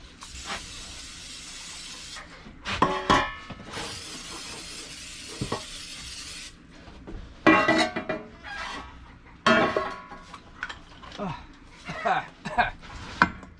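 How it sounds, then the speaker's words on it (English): Butter-flavored non-stick spray hisses from a can onto baking pans in a kitchen, two long bursts of broadband spray separated by clatter, followed by a person talking over handling noises. "I have this butter flavored non-stick spray stuff, and I'm going to spray my pans."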